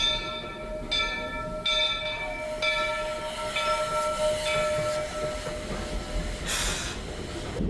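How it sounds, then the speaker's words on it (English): Walt Disney World Railroad steam train at Magic Kingdom on a cold, wet day, rumbling steadily with a sustained tonal whistle or bell ringing repeatedly over rolling rail noise, no talking. "So we're going to go on the Walt Disney World Railroad."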